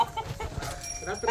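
Free-range village hens roosting up in a tree give a few soft, close clucks in a short burst, with faint rustling around them.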